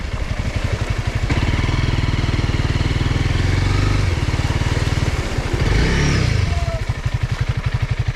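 Flooded off-road motorcycle engine on a trail, up close and loud: a rough, pulsing idle that swells into a couple of sustained revs, then drops back to sputtering chugs.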